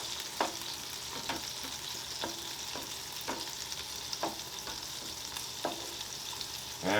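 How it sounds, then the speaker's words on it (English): Peppers and onions sizzle steadily on a Blackstone E-Series 17-inch tabletop griddle, with a spatula scraping and tapping the flat-top every second or so, close and alone with no talking. "Turn over those peppers and onions. In fact, I'm going to just combine them."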